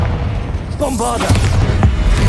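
A Bombarda spell detonates in Hogwarts Legacy, a loud booming burst with rumbling low end as a voice shouts the spell over the blast.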